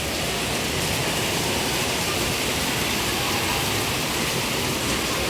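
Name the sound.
heavy rain falling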